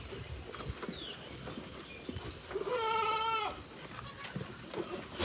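Goats and sheep kept in a low-cost farm pen at Bang Nang Buat, Suphan Buri, with one clear bleat rising midway over a steady barnyard background of shuffling and faint bird calls.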